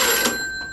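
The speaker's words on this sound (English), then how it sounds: "there's a reason that the signal rings and then pauses and then rings and then pauses" A landline telephone bell rings in one short, bright burst that fades quickly, clear and close with no voices.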